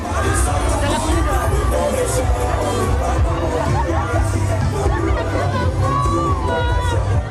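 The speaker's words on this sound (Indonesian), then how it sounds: "Ribuan warga baik pendukung dan simpatisan ini ricuh berebut kaos yang dilempar oleh Joko Widodo dan Lutfi." Dense crowd of thousands jostles along a main road to Purwodadi's town square, grabbing t-shirts thrown by Joko Widodo and Lutfi; steady loud babble of shouts, cheers and chatter with occasional sharp knocks.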